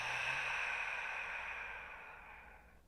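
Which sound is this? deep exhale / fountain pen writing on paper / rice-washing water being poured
deep exhale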